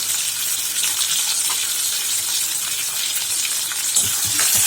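Quartered tomatoes sauté in a pan for channa masala, producing a loud, even frying hiss up close, with faint stirring scrapes and a few heavier clatters toward the end.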